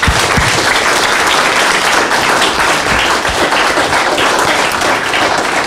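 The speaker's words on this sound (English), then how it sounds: "How about that applause you've been holding?" An audience at a city and county candidate forum in Seattle's University District breaks into loud, dense applause that holds steady for several seconds with no talking.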